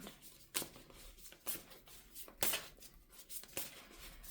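Oracle cards shuffled by hand, giving a series of soft, papery riffling bursts at irregular intervals, faint and close, with no voices.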